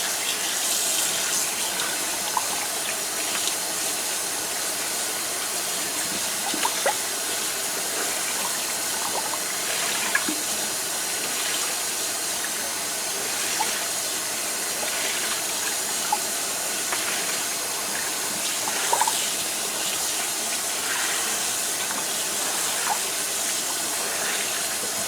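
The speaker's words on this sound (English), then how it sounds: "that's most of the dye out of it, so I'm going to turn the water off" Tap water runs steadily into a sink while a dyed T-shirt is rinsed under it, a loud continuous splashing gush with small irregular drips and sloshes, and no voices.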